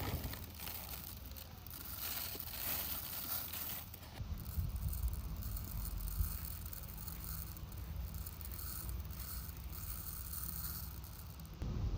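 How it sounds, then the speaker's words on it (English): Grain poured through a hole into a homemade angle-grinder attachment makes a soft, continuous rattling hiss that shifts slightly in texture partway through, quiet and close. "Through this hole, I will fill my invention with grain."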